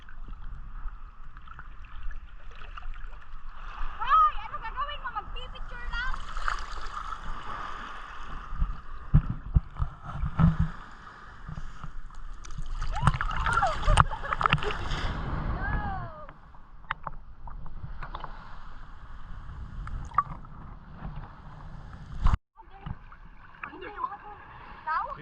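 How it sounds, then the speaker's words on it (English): An ocean wave breaks and splashes around a swimmer in rainy surf off Kenting at dusk, a broad rushing wash of water swelling and fading with people talking over it. "Okay, here comes a wave."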